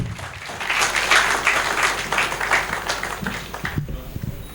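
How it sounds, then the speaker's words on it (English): An audience at a university board event claps for a speaker who has just finished, a dense, continuous round of applause that swells and then thins out toward the end, with some faint voices mixed in. "Let's give him another hand clap."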